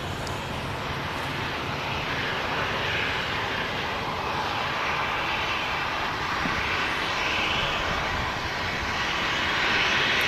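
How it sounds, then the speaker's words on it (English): A Turkish Airlines Airbus A330 jet rolls for takeoff at Manchester Airport, its engines a broad, steady roar heard from a distance, swelling slightly toward the end with some wind noise. "here she is, the Turkish Airlines A330. Looks like she'll be next to take off."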